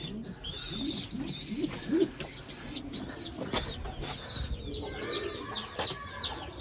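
Pet pigeons coo in low repeated phrases close by while drinking water and feeding their chicks in a coop, with soft chirps and small bird calls mixed in.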